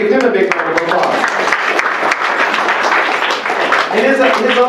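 An audience at a Veterans Day ceremony claps in a sustained, dense round of applause for an Army and Navy Reserve veteran, with a voice speaking at the start and end.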